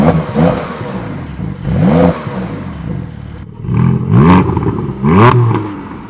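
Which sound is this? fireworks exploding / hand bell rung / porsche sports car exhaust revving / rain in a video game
porsche sports car exhaust revving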